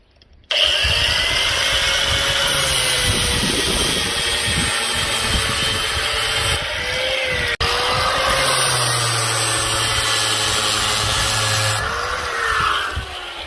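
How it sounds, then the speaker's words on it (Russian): An angle grinder with a flap disc whines steadily at close range, its pitch dipping slightly as the disc sands the edges of an epoxy resin tabletop, with a brief cutout midway. "Углы я обрабатываю наждачной бумагой, болгаркой, лепестковым кругом."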